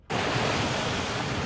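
Pouring rain falling steadily across a valley, a dense, even hiss that starts abruptly and holds at constant loudness for a moment, with no voices.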